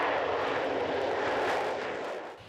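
F-35 fighter jet flying overhead, a loud steady broadband jet roar that fades slightly at the end, with no talk.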